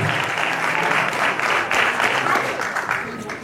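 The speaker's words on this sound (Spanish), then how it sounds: "Y los aplausos" Steady, dense applause from an audience at a sports award ceremony in Navarra fills the space evenly and loudly for several seconds, with no break.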